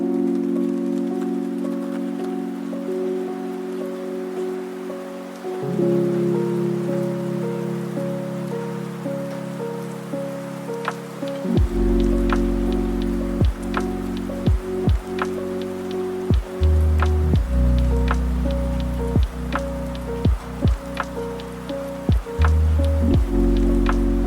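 Rain sound effects patter and drip steadily over a soft, sustained tonal music bed, with individual drops sharpening into distinct taps in the second half.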